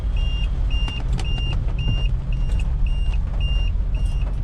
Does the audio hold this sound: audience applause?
no